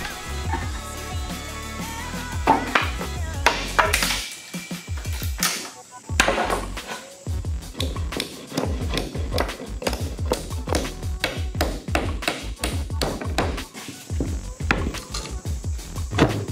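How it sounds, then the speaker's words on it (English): Wooden pallet slats are twisted off the center runner, giving repeated close woody creaks, knocks and clattering taps in an irregular rhythm with no talk. "And then twist the slats off of the center runner."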